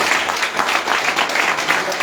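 Audience applause fills an indoor gathering, with dense, steady clapping from many hands held at an even loudness for the whole stretch.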